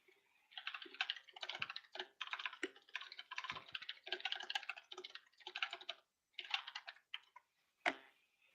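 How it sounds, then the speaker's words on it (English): Fingers type in quick bursts on a computer keyboard, close and fairly quiet, the clicking clusters broken by brief pauses and one sharper final tap. "I'm typing that in our chat so we don't forget."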